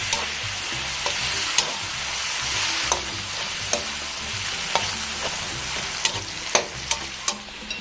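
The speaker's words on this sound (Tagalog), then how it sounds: "maglalagay lang po tayo ng konting toyo. Tapos hahaluin natin." Pansit canton sizzles in a frying pan with soy sauce as a utensil stirs it. Continuous frying crackle runs under repeated scraping and tapping strokes, which grow sharper toward the end.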